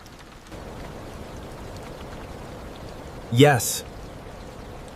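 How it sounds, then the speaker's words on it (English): Rain falls on a station roof as a steady, soft broadband hiss that swells in at the start and continues throughout, with a brief spoken word cutting in near the end. "I love the sound of rain"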